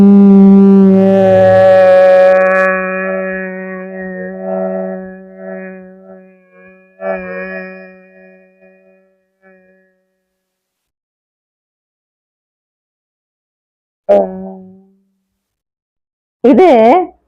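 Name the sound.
humming bee breath, imitating a buzzing beetle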